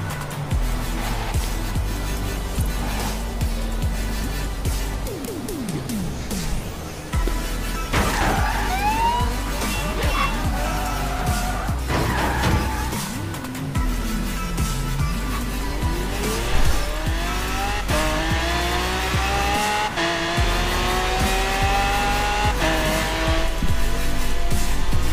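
A Ford GT race car tuned for high speed drives in a video game, its engine roaring continuously and rising in pitch through repeated gear changes, with tire squeals and skids under steady loud noise.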